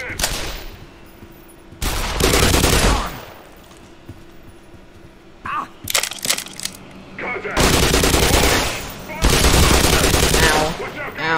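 Bursts of automatic gunfire in the video game Black Mesa rattle loudly in several long volleys, with short quieter gaps and spoken voices in between.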